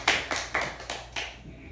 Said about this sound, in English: Applause for Jason and for Maya so far.